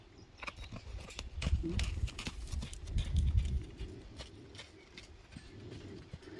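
A skittish horse shifting about with scattered hoof thuds and heavier stomps, moderately close, while people talk quietly nearby.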